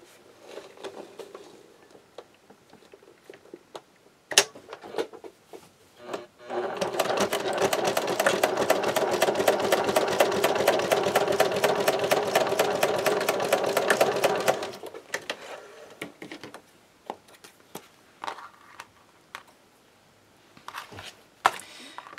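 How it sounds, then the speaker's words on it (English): A sewing machine stitches down a creased fold line on fabric for a custom pocket insert, running in one steady fast whirring burst for several seconds, framed by scattered clicks and handling noises before and after. "now I'm going to fold down that fold, sew down that fold line that I creased in the middle"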